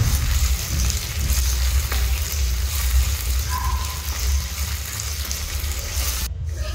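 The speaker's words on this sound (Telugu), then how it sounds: "ఇప్పుడు అల్లం వెల్లుల్లి పేస్ట్ పచ్చివాసన పోయేంత వరకు బాగా ఫ్రై చేసుకోవాలి." Ginger garlic paste fries with onions in a pan for a chicken kheema biryani, giving a steady, close, dense sizzle that holds throughout with faint clinks of stirring and no voices.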